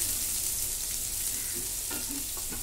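Minced garlic sautés in hot oil in a pan for paneer bhurji, giving a steady, close sizzle and hiss throughout, with a few light stirring clinks near the end.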